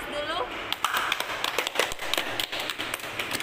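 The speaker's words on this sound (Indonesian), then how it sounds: "Beri aplaus dulu." Classroom audience applauding during a teaching practice session, a scattered round of hand claps of uneven rhythm lasting a few seconds, with a voice speaking over the start.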